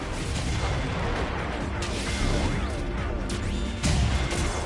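A Cyclops enemy blown apart in Zone of the Enders: The 2nd Runner, a loud continuous roar of crashing, booming explosion noise with sharp impacts layered over a dense rumbling bed.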